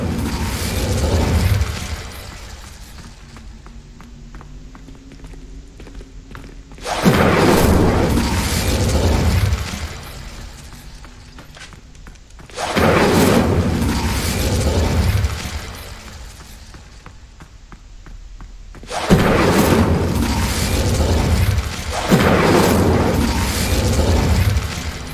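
Incendio fire spells blast in the video game Hogwarts Legacy, three loud roaring bursts of flame each lasting several seconds, separated by quieter stretches of ambient game sound.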